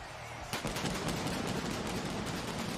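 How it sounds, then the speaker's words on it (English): At a wrestling entrance at WrestleMania 37, a sudden loud bang opens a continuous roaring crackle of rapid bursts, dense and sustained, like pyrotechnics firing off together. "Edge's music hits, and now he gets all the pyro."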